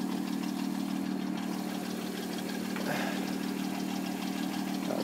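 A 2005 Hyundai Tucson 4WD with a 2.7 liter V6 idles steadily up close, a constant low hum with a faint rattle and no voices.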